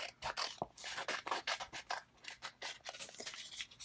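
Scissors cut through planner paper in quick, repeated snips and rustling rubs, close up and continuous, with no speech.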